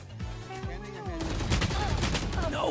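Gunfire in the video game Valorant, a dense burst of rapid shots that thickens in the second half, heard alongside in-game sounds and a brief voice earlier on.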